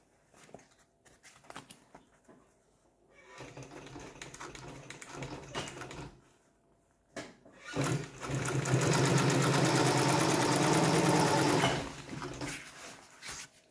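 A sewing machine stitches a canvas sailor-style bag in short bursts, first faint and intermittent, then one loud sustained run of rapid mechanical whirring before it stops.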